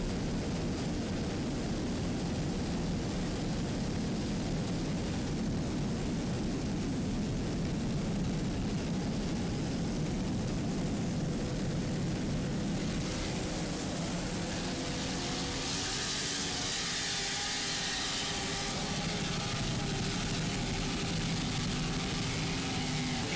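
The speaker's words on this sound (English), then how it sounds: "Great battle here for second place. 3 boats all vying for position." Several offshore racing powerboats battling for second place at the St. Pete Championships, their engines a loud, continuous, roaring drone that swells and shifts in pitch as the boats pass, with no voices over it.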